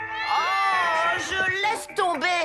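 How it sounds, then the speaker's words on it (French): A cartoon cat meows loudly in long, wailing, pitch-bending cries, one sustained yowl followed by shorter ones, with a brief spoken exclamation in between. "c'est aussi le chat le plus bruyant!"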